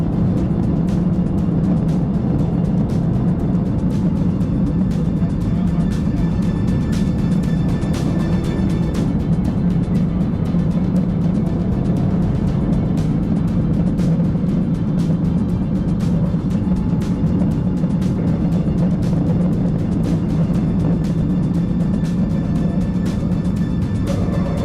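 A car roars at high speed during a police chase, a loud, continuous engine and road drone sustained throughout without a break.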